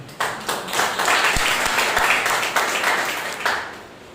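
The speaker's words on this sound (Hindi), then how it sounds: "इसके लिए जोरदार तालियां" A church congregation at a Sunday morning service claps in loud, sustained applause, a full wash of many hands with a few sharper thumps, fading at the end.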